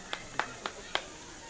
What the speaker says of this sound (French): Merci, nous applaudissons pour Teko.